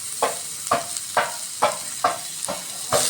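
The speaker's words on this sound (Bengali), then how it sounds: "আলু ঘাটির জন্য তেলানি করে নেওয়া হচ্ছে পেঁয়াজ রসুন দেওয়া হলো" Onion and garlic hit hot oil in a wok, making a steady sizzle broken by a regular beat of stirring strokes, about one every half second, close and clear with no voices.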